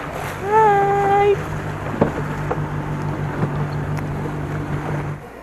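Riding a Venice vaporetto water bus: a low steady diesel engine drone and rushing wind, with a brief tonal whistle near the start and soft knocks as the boat moves along.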